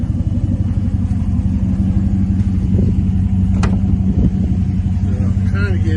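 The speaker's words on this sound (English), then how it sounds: "I'm not gonna let the truck run real long, just a little while" A 1971 Chevrolet C10 pickup idles steadily close by, a deep continuous engine rumble holding even throughout with a brief sharper mechanical sound near the middle.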